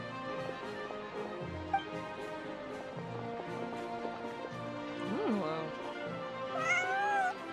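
Cats meow in Genshin Impact, several short rising and falling calls scattered through a busy game scene with music, a sharper mewing burst near the end, while a voice speaks alongside.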